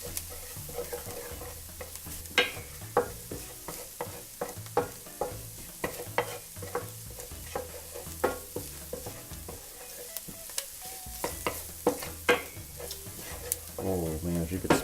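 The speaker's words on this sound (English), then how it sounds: "once we get the garlic in here, I'm gonna let this cook down for a few minutes" Garlic sizzles as it cooks in a pan for a New Orleans BBQ shrimp dish, a steady close frying hiss broken by occasional stirring scrapes, with no talking.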